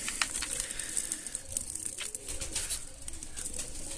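Pigeons coo softly in a loft, low murmuring calls repeating steadily under a constant background hiss with occasional brighter chirps, no voices present.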